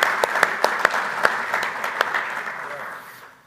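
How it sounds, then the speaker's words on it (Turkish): An audience at a youth basketball league final-four talk event claps, with close, distinct individual claps over a broad wash of applause that fades toward the end. "Ben alkışlıyorum."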